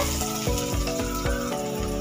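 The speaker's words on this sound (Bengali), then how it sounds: "আমি ততক্ষণ পেঁয়াজটা ভাজা করে দেবো।" Steady oil sizzle of onions frying in a pan, close and continuous, with occasional soft stirring scrapes.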